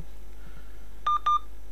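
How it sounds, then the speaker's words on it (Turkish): A lost phone wedged under a sofa cushion sounds its remote find-my-device alarm: two short, clear electronic beeps close together, moderately loud over a quiet room. "Şu anda o telefonda sürekli ses ötüyor."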